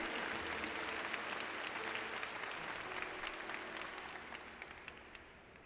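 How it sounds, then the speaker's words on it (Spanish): A church congregation breaks into loud, dense applause during a Spanish-language service, the clapping holding strong before gradually tapering off toward the end. "Dale un aplauso a ese Dios maravilloso."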